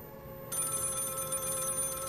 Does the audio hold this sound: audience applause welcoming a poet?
no